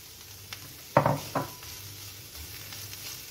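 Chanterelle mushrooms in a pan over medium heat, a faint frying sizzle broken by a couple of sharp clinks from a utensil on the pan.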